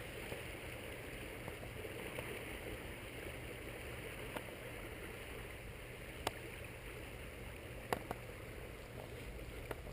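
Water rushes as backflow near Silver Falls Dam in winter, a faint, steady gurgling wash with a few sharp clicks and ticks scattered through it and no speech.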